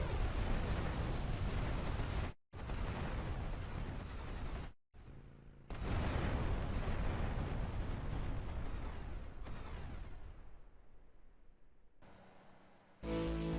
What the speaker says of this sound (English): after this, an explosion is gonna happen and the mission is gonna complete